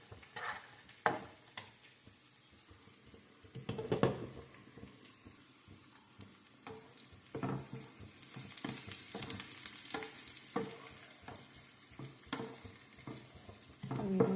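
Chicken gongura curry sizzles quietly in a pan as a spoon stirs it after salt goes in, with scattered scraping knocks and soft bubbling, no talking.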